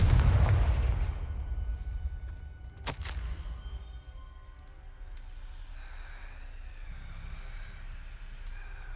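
A Confringo fire spell in Hogwarts Legacy goes off as a single sharp explosive blast, preceded by a heavy low rumble and followed by a fading ambient tail.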